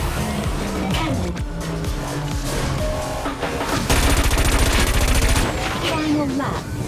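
Cannon fire in the Wipeout Omega Collection racing game, a rapid rattling run of repeated shots over roaring hover-craft engines and music, loud and sustained for a couple of seconds, with a voice speaking over it.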